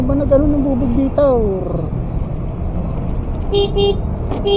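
Car horns toot in heavy traffic beneath a highway flyover, several short honks near the start and another burst toward the end, over a steady road rumble with voices talking.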